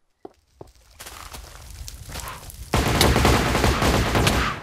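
Minigun fire from a Minecraft gun mod multiplayer battle: a few isolated shots, then sustained rapid automatic firing that swells louder and denser in the second half, close and continuous with no talk.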